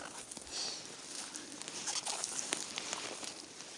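Rain beginning to fall in an autumn spruce forest, with light irregular patter of drops on leaves and ground, faint and scattered, with small rustles.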